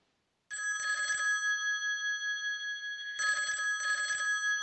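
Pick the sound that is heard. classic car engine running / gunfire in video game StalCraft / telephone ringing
telephone ringing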